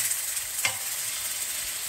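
Caramelized onions and sauce for a meat tajine with fresh ginger fry in a pan with a steady, hissing sizzle, close and moderate in level, with one brief stir or scrape.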